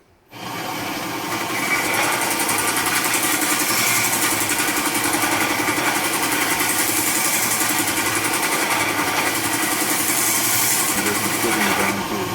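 A belt grinder runs steadily while a kitchen knife blade is held flat against the belt to thin it during a restoration, giving a loud continuous whirring grind with no pauses.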